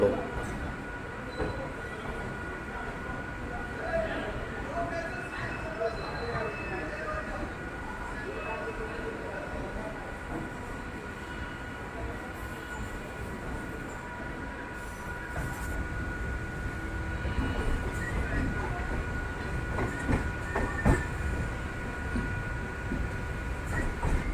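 A passenger train pulls out of Yelahanka railway station, heard from on board as a steady rolling rumble with faint rail clatter that grows louder and heavier through the second half.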